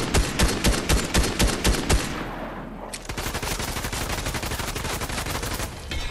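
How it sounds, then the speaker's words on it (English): Video game sniper rifle fire: a rapid series of sharp loud shots for two seconds, a decaying boom, then a dense stream of quicker gunfire continuing to the end. "We could double snipe."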